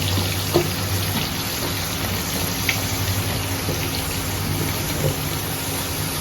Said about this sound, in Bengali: তেলের মধ্যে পটলগুলো দেওয়া হচ্ছে, পটলগুলো কিছু সময় ভেজে নেওয়া হবে, তার মধ্যে আলুগুলো দেওয়া হচ্ছে